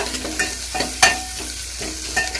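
Onion and garlic sautéing in oil for neer saaru, a thin South Indian rasam, with a steady sizzle and several scraping stirs of a spoon against the pan, close and clear with no talk.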